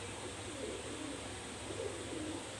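Pet pigeons kept as a pair coo softly in low, rolling phrases against a steady background hiss, fairly faint and without talk.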